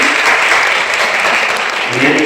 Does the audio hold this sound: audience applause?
yes